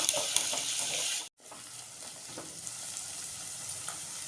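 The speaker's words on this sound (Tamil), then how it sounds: "ஒரு மூணு பச்சை மிளகா கருவேப்பிலை வெங்காயம் நல்லா வதங்கி வரணும்" Green chilies, curry leaves and onion sauté in a hot pan for fish curry, a steady close sizzle with scraping stir strokes, briefly cut off by a short silent gap before the frying continues.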